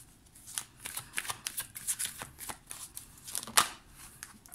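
Tarot cards being handled and shuffled during a reading, giving a run of soft, papery riffles and flicks close by, with no voice heard.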